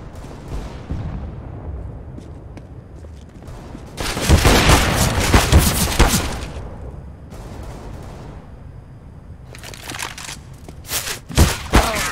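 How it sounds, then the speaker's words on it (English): A grenade thrown and detonating in the shooter game CS:GO, a loud, dense explosive burst about a third of the way in followed by scattered sharp gunfire cracks and later bursts, with quieter noise between. "Throwing a grenade."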